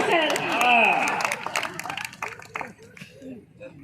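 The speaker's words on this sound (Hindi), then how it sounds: "सब ताली बजा रहे हैं" Audience clapping at a political rally in Guna, a burst of applause heard under a voice speaking over it, fading as the talk continues.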